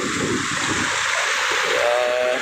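The Palu River flowing past the bank, a continuous broad rushing wash of moving water with a steady, even loudness and no voices, near and filling the scene.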